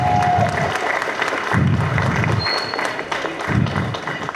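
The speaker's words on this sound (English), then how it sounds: "I'm asking that we all give them a round of applause" An election results gathering for union voting gives a round of applause, loud and close, with dense clapping swelling in waves over a low crowd murmur.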